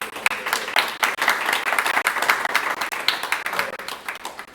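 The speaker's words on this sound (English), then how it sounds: "let's give him a round of applause" Audience applause greets a presenter taking the stage at a pitch event, many hands clapping with individual claps standing out in an uneven, lively rhythm that holds steady.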